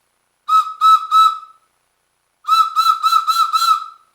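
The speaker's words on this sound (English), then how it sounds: "So that's a 50 caliber whistle." A homemade whistle made from a .50 caliber ammunition casing with a reed set inside, blown loudly and shrilly: three short blasts, a pause, then a longer run of five rapid pulses.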